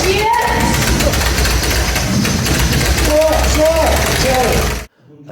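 A Honda RC174 replica motorcycle engine runs close by, a loud, busy mechanical clatter at steady revs that carries on for about five seconds, then cuts off abruptly into silence.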